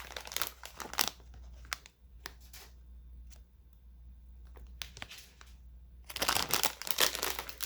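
Crinkly plastic packaging of a spicy Korean seafood ramen is handled in short bursts of crackling and rustling, loud at the start and end with quieter gaps between.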